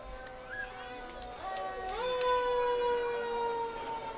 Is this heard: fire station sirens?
yes